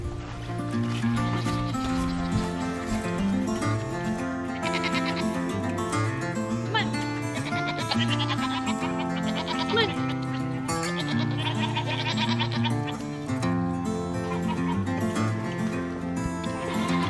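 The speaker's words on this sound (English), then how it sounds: "Time to go milk the goats." Goats on a farm bleat in long, wavering cries, one after another, loud and close, at milking time.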